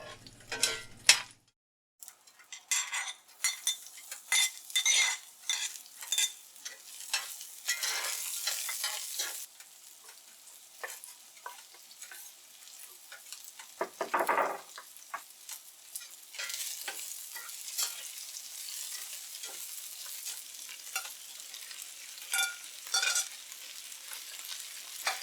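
Hot chili pepper stir-fries in vegetable oil over medium-high heat for a home-style tofu dish, giving bursts of sizzling and crackling with scraping stirs, some quieter gaps and a short pause near the start.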